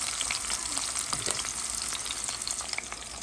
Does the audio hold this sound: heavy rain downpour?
no